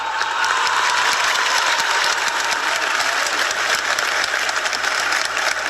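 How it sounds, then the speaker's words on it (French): A church congregation applauds at the opening of a celebration, with steady, dense clapping sustained throughout and no talk over it. "on les applaudit très très fort."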